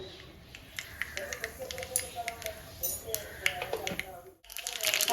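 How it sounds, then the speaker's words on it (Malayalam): Mustard seeds crackle and pop in hot oil, a quick irregular series of sharp little bursts close up, fading briefly before resuming. "കടുക് പൊട്ടി വരുന്ന സമയത്ത്"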